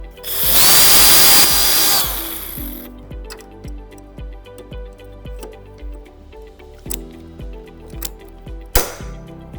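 A power drill with a 5mm bit whines loudly for about two seconds, then a rapid ticking clatter follows with a sharp burst near the end.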